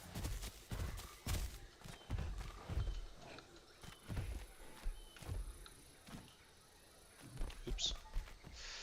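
Horse hooves clip-clopping in the video game Pachy, a steady run of walking steps with some louder thuds mixed in, heard at moderate distance.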